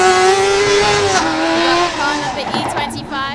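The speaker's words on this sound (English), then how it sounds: "So we had a nice skid as car number 30 went flying across the line" Formula Student race car skidding at speed across the finish line in an autocross event, a loud sustained tonal tire squeal sliding downward in pitch over engine noise, with a commentator talking over it.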